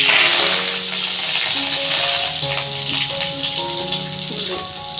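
Curry leaves hit hot oil with popping mustard seeds and fennel while tempering for tomato chutney, giving a loud, steady, close sizzle that runs the whole time, with a soft tonal melody underneath.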